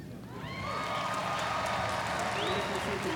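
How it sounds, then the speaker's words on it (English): A graduation ceremony audience applauds and cheers in a large hall, steady broad clapping swelling and holding with some whoops and voices mixed in the crowd. "I love hearing the clapping and celebration"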